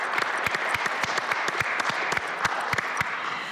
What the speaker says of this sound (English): Please join me now in giving the fine people of Toyota and Lexus of Knoxville a warm round of applause.